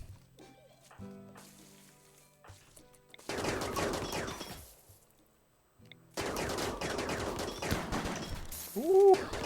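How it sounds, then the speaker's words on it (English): Bursts of chain shotgun fire in the RimWorld colony game, loud dense volleys of rapid shots in two long stretches separated by a quiet gap, with a brief tonal effect near the end. "Ooh, chain shotguns"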